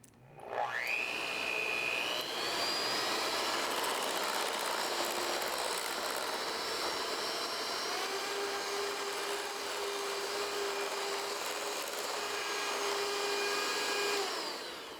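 An electric mixer whips meringue for peppermint meringue cookies toward stiff peaks, its motor spinning up quickly and then whirring loudly and steadily at a high pitch without a break.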